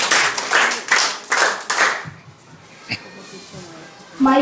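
An audience at a 2017 school class debate claps for the third proposition speaker, a steady rhythmic burst for about two seconds that quickly thins out. Faint room noise follows, and a voice starts right at the end.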